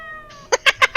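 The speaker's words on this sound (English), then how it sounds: "Oh, the cat." In the horror game Corpse Party: Book of Shadows, a quick run of four short, sharp cat-like calls follows a brief tonal lead-in, close and loud.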